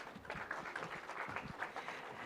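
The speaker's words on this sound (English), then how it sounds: "Please put your hands together in a louder round of applause, ladies and gentlemen." Faint, distant audience applause for a speaker at a business event, a steady patter of many hands clapping that lasts the whole short stretch without rising or fading.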